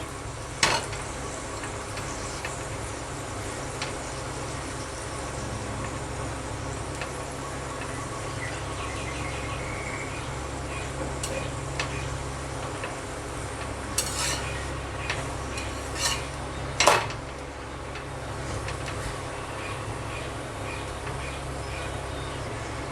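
Dahi paratha frying in a pan at home, a steady low sizzle running throughout with occasional scraping and clinks of a spatula against the pan, no talking.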